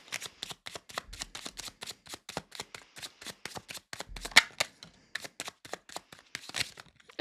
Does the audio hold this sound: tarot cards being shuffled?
yes